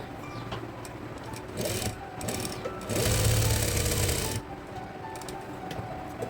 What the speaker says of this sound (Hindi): इसे इस तरीके से सिलाई लगा लेंगे पहले।